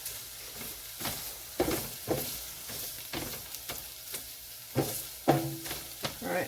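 Sausage fries in a pan on the stove as jambalaya is made, giving a steady sizzle with occasional stirring scrapes and louder bursts throughout.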